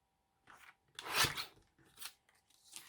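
Paper cut for a handmade ephemera holder, several short crisp snipping and rasping bursts separated by brief pauses, close and fairly distinct with no talking.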